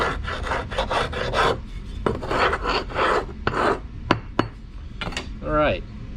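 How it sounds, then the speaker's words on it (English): Excess packed mold material for a fine silver arrowhead casting being scraped off with a square, a gritty rasping sawn back and forth in quick strokes, close up, followed by a few clicks and taps. "Just with the sawing motion, go back and forth, get the excess off."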